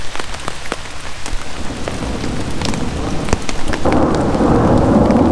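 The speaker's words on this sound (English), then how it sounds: "It's just heavy storms, heavy thunderstorms." Heavy thunderstorm in the Red River Gorge, heard from a hammock camp: steady dense rain pattering on surfaces with rumbling thunder, swelling into a louder sustained downpour and roll near the end, no talking.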